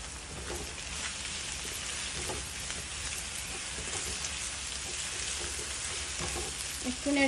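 Spiced chickpea curry fries in a pan with a dense, even sizzling hiss and faint scraping as it is stirred, steady and close throughout.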